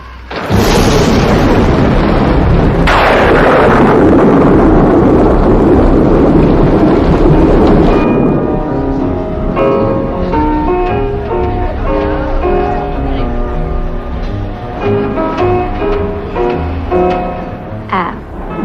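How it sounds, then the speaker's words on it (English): A loud, rumbling roar of storm noise fills the first half, with wind-like bursts, then it gives way to quieter music-like tones. "The storm's really building up."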